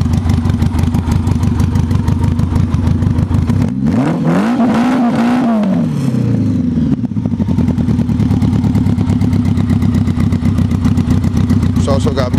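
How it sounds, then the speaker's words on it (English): A Honda bobber motorcycle with straight pipe exhaust idles with a loud, rapid, lumpy putter. Midway it revs up sharply in one throttle blip, then settles back to its choppy idle. "It is straight pipe. Sounds pretty good when you give it gas too."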